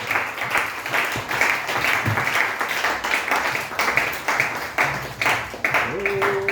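A church congregation claps and cheers in praise of the Lord, sustained applause running steadily under a loud voice and music.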